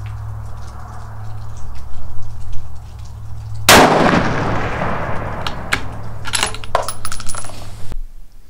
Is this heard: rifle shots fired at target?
yes